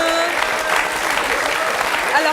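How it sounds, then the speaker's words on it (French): A French television studio audience applauds for a guest about to get a haircut, steady dense clapping filling the whole stretch with a few voices mixed in underneath. "on peut applaudir Myriam qui va se faire couper les cheveux"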